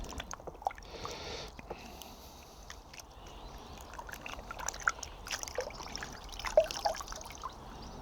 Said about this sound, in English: Give that a good rinse.